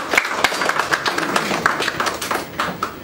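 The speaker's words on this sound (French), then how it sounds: "Je veux qu'on les applaudisse quand même si elles ne sont pas là." A crowd at a political movement's meeting applauds its executive bureau members, a dense, even patter of many hands clapping at moderate distance without a break.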